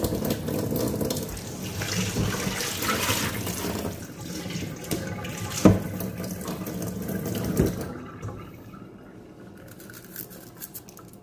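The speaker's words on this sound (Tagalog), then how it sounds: "Tapos ilagyan ko to siya guys na ano ng mainit na tubig." Hot water runs into a container while a goat kapsa dinner is being prepared, a steady close pouring rush that thins out and fades near the end.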